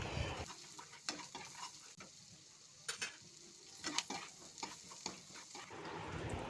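Chopped garlic and green chillies fry in melted butter in a pan, a soft continuous sizzle broken by several sharp scrapes and taps of a spoon stirring, close and fairly quiet.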